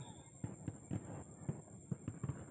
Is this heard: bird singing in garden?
no